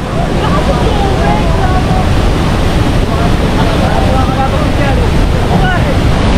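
Pagsanjan waterfall in the Philippines pours in a loud, steady rush of water, a dense unbroken roar close by, with wind buffeting the microphone and excited voices shouting over it.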